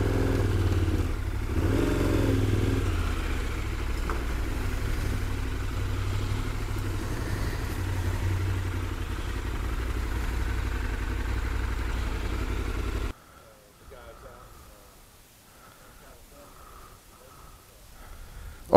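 A Chevy 454 SS pickup truck's supercharged engine rumbles steadily at idle for several seconds, deep and close, then cuts off, leaving faint clicks and quiet.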